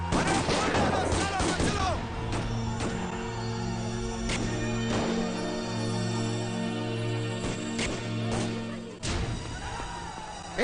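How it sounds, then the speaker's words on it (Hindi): Gunshots ring out in a Hindi film scene, several sharp sudden cracks spaced across the passage amid a tense background hum and scattered voices. "गोली चल गई।"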